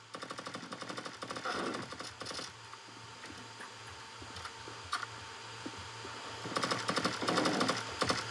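Rapid bursts of Counter-Strike gunfire play through the speakers of a 2024 Asus Zephyrus G14 laptop, clustering into dense automatic volleys at the start and end with scattered single shots between, set over a steady low hum.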